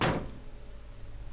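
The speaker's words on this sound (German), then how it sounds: "Als ob ich nicht geahnt hätte, dass diese Tür sich jetzt öffnet." A door swings open in Silent Hill 2, a sudden close-up knock or clunk of the heavy door followed by a low, dark ambient hum that lingers and fades.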